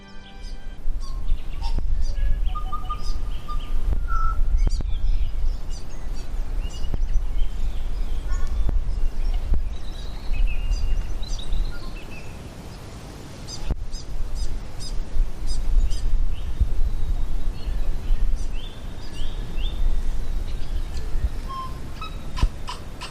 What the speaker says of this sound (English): I will leave you with birdsong from the property of Shaun and Helen Murphy